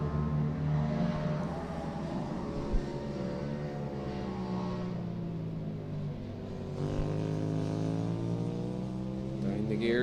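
A rallycross race car at Mondello Park holds a steady, droning engine note with shifting harmonics as it changes gear into a corner, heard at a distance under a commentator's voice.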